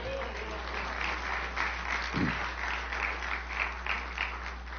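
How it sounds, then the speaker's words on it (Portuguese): A church congregation applauds during a Portuguese-language sermon, a steady dense wash of clapping that fills the space, with voices mixed in and a constant low hum beneath. "Você pode aplaudir a Jesus?"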